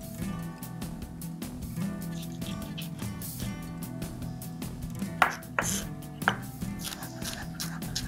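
A knife chops capsicum on a board while grilled chicken with white sauce spaghetti is prepared, giving soft, steady cutting taps with a few sharper knocks, close and continuous, with a faint liquid clink.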